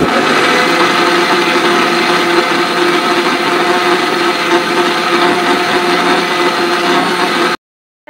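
A mixer grinder whirs loud and steady, grinding mustard paste for Bengali kasundi, with an even motor hum throughout before cutting off abruptly near the end.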